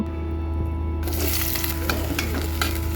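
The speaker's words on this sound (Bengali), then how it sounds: "দিয়ে দিলাম পেঁয়াজটা হালকা ভাজা ভাজা করব" Onions sizzle loudly as they fry in a pan, and a utensil stirs them from about the one-second mark. The frying stays steady and close throughout, with no talking.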